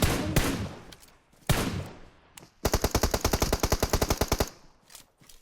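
Gunfire in the battle-royale game PUBG Mobile: two separate loud bursts, then a long rapid automatic volley of about twenty evenly spaced shots, fairly close and sharp, ending in quieter trailing shots.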